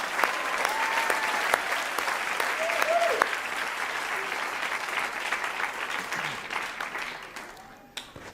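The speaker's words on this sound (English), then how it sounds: "Let's give these guys another round of applause, huh?" Sustained applause from a large church crowd, dense steady clapping throughout, with a few cheers mixed in and fading slightly near the end.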